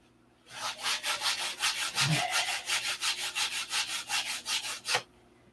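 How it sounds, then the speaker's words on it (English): Hand sanding of a wooden rib and flap set, a steady series of about twenty rhythmic rasping strokes back and forth, close and fairly loud, with no talking. "So now we sand in that direction, and come back and sand in the other direction at a 45"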